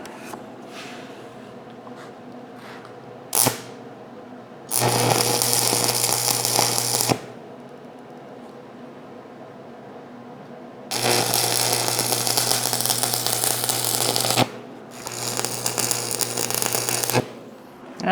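Stick welding with 7018 rods on a root ripper blade, three separate bursts of harsh, steady crackling and sizzling over a low electrical hum, each lasting a few seconds with quieter gaps between.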